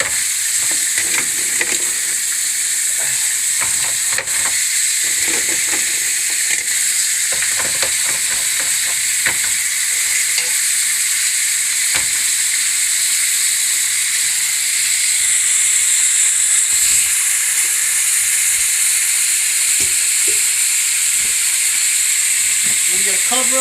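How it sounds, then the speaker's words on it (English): Clams steam in a pan with white wine, garlic and chicken stock, giving a steady, loud hiss and sizzle throughout with occasional clinks and stirring. "I'm going to get this in first, get our clams in, let them start to steam up."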